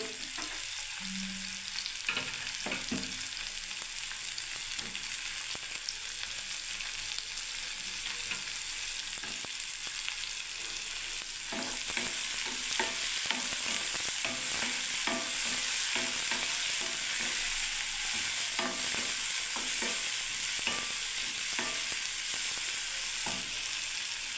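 Tomatoes frying in a pan with a steady hot sizzle, while a utensil stirs them in repeated scraping strokes. No one speaks.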